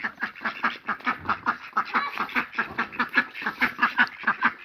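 A flock of ducks, adults and ducklings together at a morning feeding, quack in a rapid, steady run of overlapping calls, close and fairly loud throughout.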